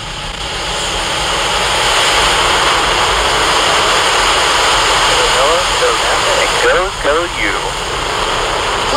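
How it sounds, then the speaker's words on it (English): A SpaceX Falcon Heavy rocket carrying the GOES-U weather satellite lifts off, its roar rising to a loud, steady, broadband rumble that holds for seconds, with brief chirping sounds near the end. "Liftoff of GOES U, NOAA's newest weather satellite"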